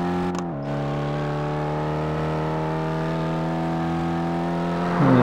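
A car engine at the start of a time race in CarX Highway Racing drones with a steady, loud, even hum that climbs as it revs up at the end.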